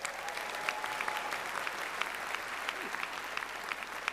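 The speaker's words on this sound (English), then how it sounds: "Let's give him a big round of applause." An audience at a comedy roast claps steadily in a sustained round of applause, dense and fairly distant, with faint crowd murmur underneath.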